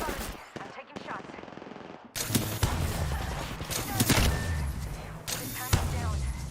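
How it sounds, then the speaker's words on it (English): Video game gunfire aimed at the player: bursts of rapid automatic shots open up after a quieter start, loud and close, in repeated volleys with brief gaps between them. "Being shot at."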